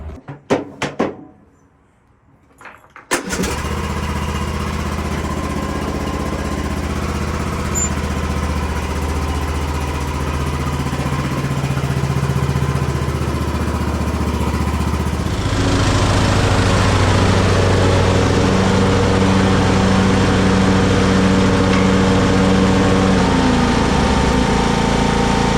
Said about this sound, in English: here's the 2020 John Deere E100 that I have